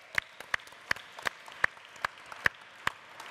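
Sparse, scattered claps from a small audience at a Commonwealth business forum, irregular and fairly faint, about a dozen separate hand claps with no talking.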